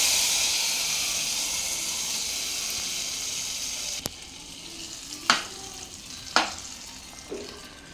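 Two dried red chillies hit hot oil for palak khichdi, a bright close sizzle that fades after a few seconds, followed by a few sharp knocks of a spoon against the pan.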